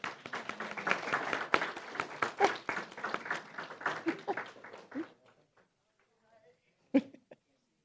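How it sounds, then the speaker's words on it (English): Audience applause at a school board meeting, a burst of clapping for about five seconds that fades out, followed by a few scattered claps and brief voices. "let's give them a round of applause as they're coming"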